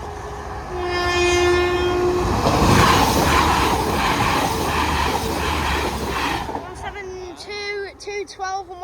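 A train passes Hartlebury level crossing in Worcestershire, its horn blaring in a long sustained tone before the loud rumble and clatter of wagons rolling close by, then fading as crossing noise and voices return.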